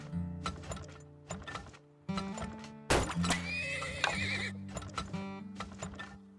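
Horses in the video game Turmoil whinny repeatedly in clear, fairly loud bursts, mixed with clip-clopping hooves and a brief thunk in the middle, with no one talking.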